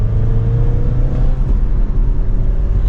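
A 2023 Chevrolet Camaro 2LT RS with a 2.0-liter turbo four-cylinder and manual gearbox revs steadily, a close, loud low engine drone with a faint turbo whir above it and no talk.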